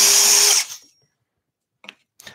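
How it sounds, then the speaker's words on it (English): A power drill bores through a wooden board laid on a workbench, a loud whirring burst that cuts off abruptly, followed by silence and two faint brief knocks. "I'm using a board underneath. I don't want to drill into my bench."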